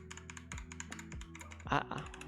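Rapid clicking of fingers typing on PBT keycaps, a brisk uneven patter of sharp taps over a steady low hum, with one louder burst of keystrokes near the end.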